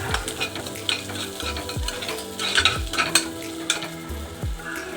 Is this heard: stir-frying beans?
yes